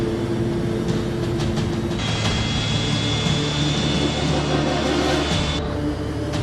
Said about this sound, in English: The F-28 struggles to get airborne.